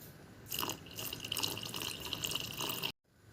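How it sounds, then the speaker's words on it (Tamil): Tamarind water pours steadily into a pot of sambar for a few seconds, a continuous close splashing stream that stops abruptly. "இதோட புளித்தண்ணி நம்ம ஆட் பண்ணிக்கலாம்."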